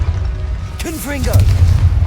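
The Confringo explosive spell is cast in the game Hogwarts Legacy. A voice shouts briefly, then a low, rumbling boom swells over a constant loud game background.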